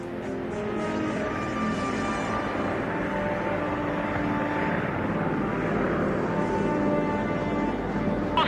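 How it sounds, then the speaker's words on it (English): A propeller-driven aircraft takes off from Thule in Greenland, its engines producing a steady loud droning roar that holds throughout, with no speech. "Daryl and the others take off from Thule."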